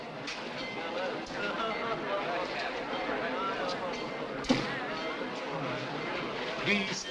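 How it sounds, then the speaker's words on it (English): A steam-era train rolls out of a station in a 1946 film noir scene, a low rumble with faint rhythmic clatter and a sharp clank midway, heard under dialogue. "Train leaving, if you please."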